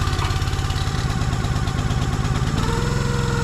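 A wood-splitting machine's engine runs loud and close at a steady idle, with a rapid regular chugging pulse throughout and a slight change in pitch near the end.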